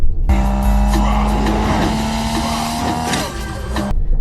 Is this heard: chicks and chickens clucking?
no